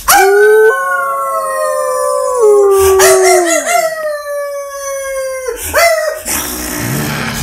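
A fierce wolf in an animated story howls long and loud, with sliding drawn-out tones that rise and fall across several seconds, then a rough noisy tail at the end.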